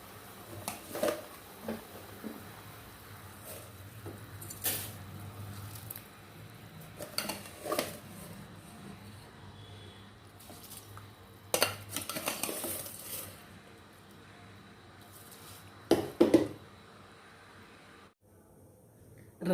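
Rice tipped into a pot of boiling water and stirred, with scattered clinks and scrapes of a metal spoon against the pot over a quiet bubbling background, the sharp knocks coming in irregular bursts.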